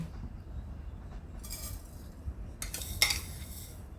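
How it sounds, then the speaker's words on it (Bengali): Panch phoron spices stirred in hot oil in a pan while making apple chutney, a few bright metallic scrapes and clinks of the utensil on the pan over a low steady hiss, close and fairly quiet, without talk. "এই পাঁচ ফোড়নটা দিয়ে হালকা একটু নেড়ে নেব"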